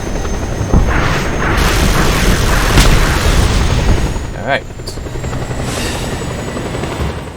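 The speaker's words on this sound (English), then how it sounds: "It's only a matter of the helicopters that are flying around and shooting at me." Helicopters fly overhead and fire in the Just Cause 2 video game, a loud continuous rotor roar with booming shots and bursts of gunfire, while someone briefly speaks over it.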